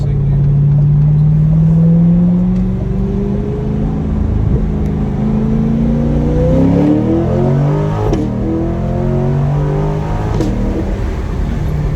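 A C8 Corvette fitted with a performance intake accelerates hard in second gear, its loud engine note climbing steadily in pitch before a shift, then rising again, heard from inside the car.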